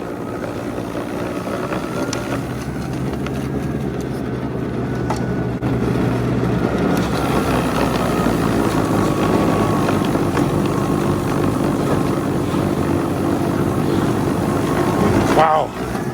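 A Toro 60V electric two-stage snowblower throws snow outdoors in wind, a steady close motor whir and churning rush that thickens after a few seconds, with a brief clatter near the end.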